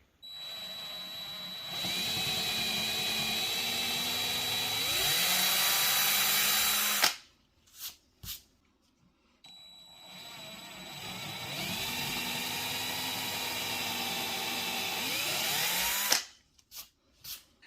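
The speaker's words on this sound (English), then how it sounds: "I've drilled the pilot holes into the bottom of the butcher block" A power drill whirs in two long bursts, pitch dipping as the bit bites into a wooden butcher block desktop drilling pilot holes, each followed by short trigger blips and brief pauses.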